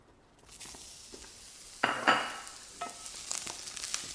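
Onion wedges frying in a hot pan for a Thai sweet and sour fish dish, a soft steady sizzle with a few sharper crackles and stirring scrapes partway through, fairly quiet and without talk.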